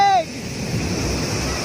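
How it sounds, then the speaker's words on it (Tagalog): Waves wash up on a beach in a steady broad rush of surf after a short shout at the start. "Inaabot po siya ng tubig! Alon!"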